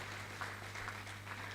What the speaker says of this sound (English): please kindly appreciate them by giving them a round of applause